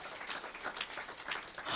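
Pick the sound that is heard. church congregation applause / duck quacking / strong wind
church congregation applause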